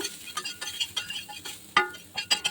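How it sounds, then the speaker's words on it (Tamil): Chopped onion frying in oil on a new dosa tava, with a steady soft sizzle broken by repeated scraping stir strokes across the iron griddle, close up and without talk. "இதே எண்ணெயில் கொஞ்சமாக வெங்காயம் கட் பண்ணி சேர்த்துக்கிறேன்"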